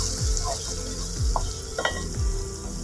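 Masala roasting in hot oil for aloo gobi sizzles steadily up close, with a few soft scraping stirs of the spoon through the pan.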